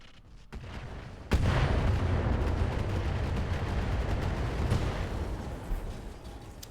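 A barrage of LRM Hydra missiles launches in Battletech, a sudden loud burst of rumbling fire that swells and sustains as a dense roar, with another thump near the end.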